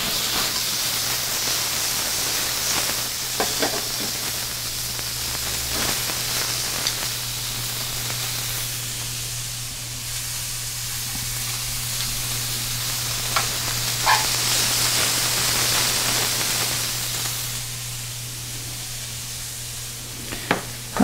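Oyster mushrooms sizzle steadily in a hot pan during an Asian stir-fry, a constant frying hiss with a few scattered scraping and stirring clicks and a low background hum.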